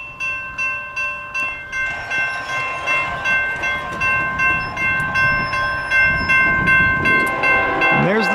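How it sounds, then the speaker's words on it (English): A CP and NS freight oil train passes a level crossing, with crossing bells ringing in a steady, regular pulse over the rolling rumble of railcars, growing louder as it nears. "And there's the train."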